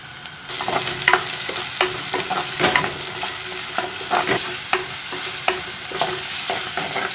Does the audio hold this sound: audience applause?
no